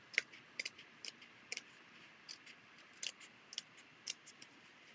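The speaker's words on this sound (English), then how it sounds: "So I'm just cutting out this middle chunk without cutting my finger." Scissors snip through paper scraps while cutting out card layout pieces, a quiet, irregular run of about a dozen short, crisp clicks spaced by brief pauses, with no voice.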